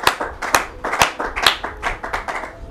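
A church congregation claps in a quick, steady rhythm, close and loud, with sharp hand claps repeating about twice a second and little voice underneath.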